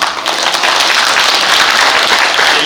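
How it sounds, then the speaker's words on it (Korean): A hall audience at a founding ceremony for a memorial society honoring an independence activist gives loud, dense, sustained applause welcoming introduced guests, the clapping steady and full throughout. "환영의 큰 박수 부탁드리겠습니다"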